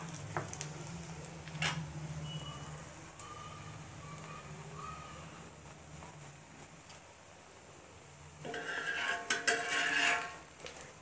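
An omelette frying in oil in a pan makes a continuous sizzling hiss under scattered clicks and clatter, swelling into a louder, busier crackle toward the end.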